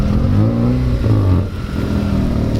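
Honda Civic fitted with an Invidia N1 exhaust and RV6 downpipe revs up loud and close, a steady throaty engine note rising and falling over a couple of seconds with no talk.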